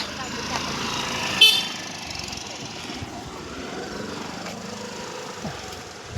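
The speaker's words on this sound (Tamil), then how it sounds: "எங்கள் வண்டியை பார்த்தா ஹார்ன் அடிச்சிட்டு போகுதுங்க." A short vehicle horn toot sounds over steady engine and road noise, with voices in the background.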